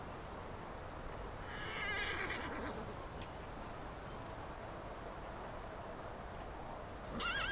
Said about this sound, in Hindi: बिल्कुल वैसे ही घोड़े हैं।